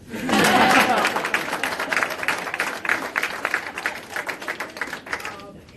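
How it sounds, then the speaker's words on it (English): Audience applause at a legislative press conference in Virginia, opening with a loud burst of many hands clapping that thins into scattered claps before fading out. "Applaud that."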